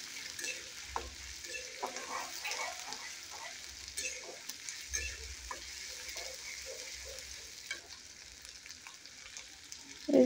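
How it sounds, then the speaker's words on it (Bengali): Ground spice paste fries quietly in oil, a soft steady sizzle with intermittent scraping stirs in the pan, ending in a louder clatter. "এই তেলের ভিতরে আর একটু তেল দিয়ে বাটা মশলাগুলো দিয়ে দিচ্ছি। দিয়ে মশলাটা ভালোভাবে কষিয়ে নেব।"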